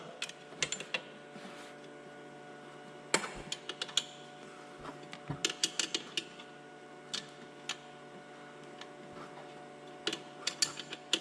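Close, quiet ratcheting clicks of a 10 mm wrench tightening a bolt on a four-wheeler come in short irregular bursts over a steady low hum.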